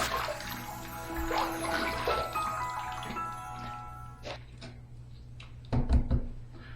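Water runs from a tap as a Diablo safety razor is rinsed, a steady hissing stream that fades out, followed by a few close knocks and taps against the sink.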